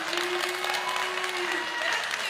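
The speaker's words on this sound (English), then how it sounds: "We ask the audience, please refrain from clapping and cheering." An audience applauds at a congressional debate in Lamar County, Texas, with dense, steady clapping throughout and a faint sustained tone above it.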